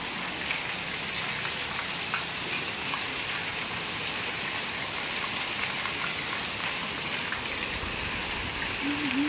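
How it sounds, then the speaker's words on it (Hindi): Steady rain falling outside a house at dusk, a dense, even hiss of drops on surfaces that continues without a break at moderate level, with no voices. "ये देखो बारिश।"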